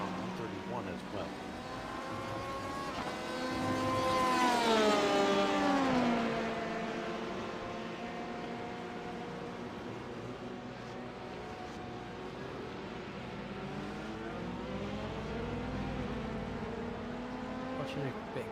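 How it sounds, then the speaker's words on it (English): LMP1 and LMP2 prototype race cars at Spa pass in a bunched group, engines rising and falling in pitch as they swell to a peak and fade. A commentator talks over them throughout. "LMP1s going through the LMP2s that are all bundled up right now"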